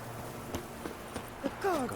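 Horse hooves clip-clop at a walk while riding in The Witcher 3, a few soft beats over a steady game background, with a voice talking near the end.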